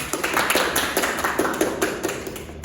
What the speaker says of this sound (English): Give applause to Husnul.